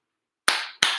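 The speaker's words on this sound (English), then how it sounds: "Clap your hands for Miss Ann." Two sharp hand claps from children, spaced about a third of a second apart, each bright and loud with a short decaying tail. Nothing else is heard.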